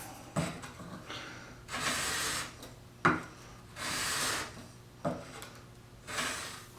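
Sandpaper rubbed by hand along a steel knife blade with a Scandi grind, three long rasping strokes each starting with a light knock, close and steady with short pauses between, no talk.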